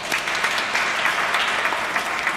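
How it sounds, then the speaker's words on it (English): An audience applauds at the reopening of an indoor swimming pool, giving steady, dense clapping from a crowd at moderate volume with no voices over it. "Let's give her a round of applause."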